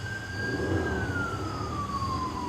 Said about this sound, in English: Sounds like an ambulance or something, or a cop.